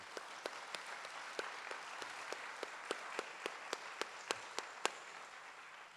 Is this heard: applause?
yes